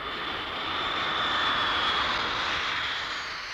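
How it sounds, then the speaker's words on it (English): Republic of Singapore Air Force military planes make a farewell flypast over Changi, a broad continuous aircraft engine roar that swells as they pass and then slowly fades, with no voices. "military planes from the Republic of Singapore Air Force made a farewell flypast over Changi"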